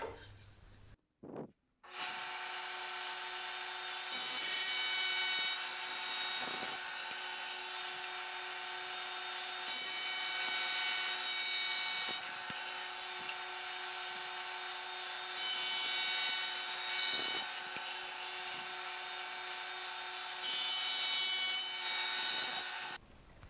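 A length of chair wood is pushed all the way through a power saw to cut a gradual taper, a loud steady whine running nearly unbroken for about twenty seconds with slight swells in pitch and load.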